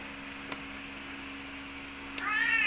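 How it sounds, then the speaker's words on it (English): Indoor cat meowing in the background, one drawn-out meow near the end, faint beneath a steady hum, with a couple of soft clicks before it. "pardon my stupid cat, who won't shut up in the background"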